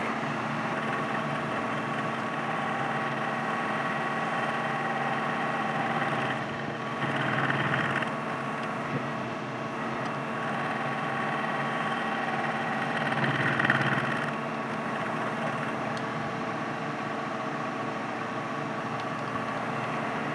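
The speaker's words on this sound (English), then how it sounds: "So I've got it on the low speed. I'm going to go at about 300 RPM, not very quick." A workshop machine runs at low speed, about 300 RPM, while a bicycle frame stay is radiused on a vintage Ritchey frame. It gives a steady, even drone with two brief, slightly louder swells.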